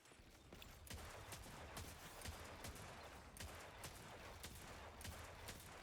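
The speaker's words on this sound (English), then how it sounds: "Probably just gonna do some hand cannon spam." Hand cannon fire in a first-person shooter video game, a string of sharp shots at irregular intervals, fairly quiet and distant over a steady wash of game noise.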